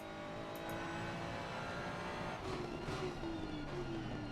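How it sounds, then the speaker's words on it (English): Italian GT3 race car in a sim racing game at Snetterton, a steady engine drone with faint upshifts as the pitch steps between gears, heard at low level with no talk. "the gear change is beautiful to be heard"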